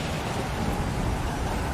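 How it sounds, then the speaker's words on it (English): Steady rain falls in the survival video game Stranded Deep, a dense, even hiss of downpour with a low rumble underneath, continuous throughout with no voices. "Seems to rain a lot here."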